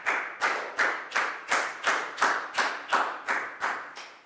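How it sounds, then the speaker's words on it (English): Classroom applause for a student in a Year 4 English lesson, heard as steady rhythmic group clapping, about ten evenly spaced loud claps in unison, close and without talk. "Big round of applause for Net, please,"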